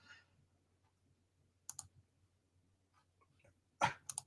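A computer mouse clicks on a shared screen in a quiet room: a couple of sharp, close clicks, a pause, then another quick pair.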